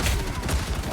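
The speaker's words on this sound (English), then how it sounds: "So good, hitting the Punisher turret." Punisher turret gunfire in the video game Marvel Rivals: a loud, dense burst of rapid automatic shots filling the whole second without a break.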